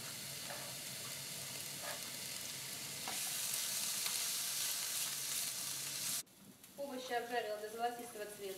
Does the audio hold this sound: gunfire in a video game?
no